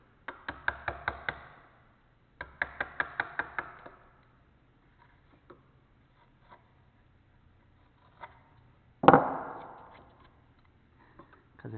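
A chisel cutting wood across the grain with hand tools, two quick bursts of rapid tapping strokes followed by sparse single knocks and a louder scraping cut, close in a quiet room.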